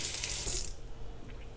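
Rabbit feet being rinsed under a running tap, a steady close rush of water that cuts off partway through, leaving quieter dripping and handling noise.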